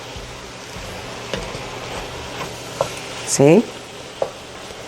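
Freshly diced tomatoes sizzle in a pot of homemade chili, a steady close frying hiss with a few stirring clinks and scrapes, while a voice speaks briefly over it.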